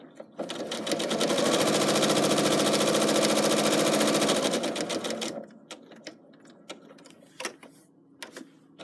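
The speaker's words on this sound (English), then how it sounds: "stitch it down, and then we're going to swivel, and then we're going to continue stitching" A sewing machine runs steadily for about five seconds stitching a fabric coaster, then stops, leaving a few soft clicks and taps as the work is swiveled at a corner.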